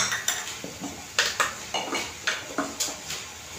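Pot clatter from stirring vegetables with salt and turmeric for pav bhaji: about a dozen distinct metal-on-metal scrapes and knocks in an uneven rhythm, close and moderately loud, with no voices.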